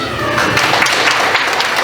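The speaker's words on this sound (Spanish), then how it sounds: "brindarles un fuerte aplauso" Wedding guests break into dense, sustained applause for the newlyweds, a thick wash of many hands clapping close by with faint chatter underneath.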